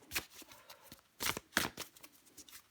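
Tarot cards being shuffled in several quick riffling bursts with short pauses between, close and fairly quiet, with no talking.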